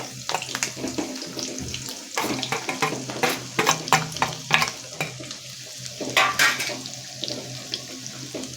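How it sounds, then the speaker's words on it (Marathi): Grated dry coconut with ginger garlic paste sautés in a pan, a close sizzle broken by repeated stirring and scraping strokes with uneven, clattering bursts. "आता हे थोडंसं परतून घ्यायचं आहे दोन मिनिट"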